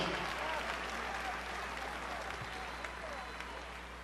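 Large rally crowd applauding a Barack Obama speech in Pittsburgh, a dense continuous wash of clapping and cheering that holds steady and fades slightly at the end, with a low hum beneath.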